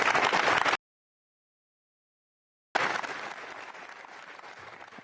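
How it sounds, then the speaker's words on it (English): Applause breaking out in a rocket launch control room after an Ariane 6 upper stage separates the MTG-I2 weather satellite, a dense clapping burst, then a gap of silence, then sustained loud clapping that slowly fades. "Applause."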